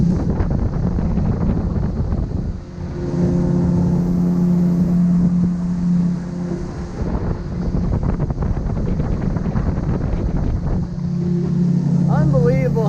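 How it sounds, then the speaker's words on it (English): An outboard motor drives a small boat across open water near a remote Nova Scotia island, a steady engine drone with a low hum under rushing wind buffeting the microphone, continuous and close throughout. "Unbelievable how quick it is to use my outboard versus a lobster boat."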